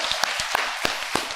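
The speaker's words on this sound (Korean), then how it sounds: "박수하겠습니다" Church congregation applauding during a Sunday worship service, a short burst of scattered hand claps with sharp individual hits over a low room murmur.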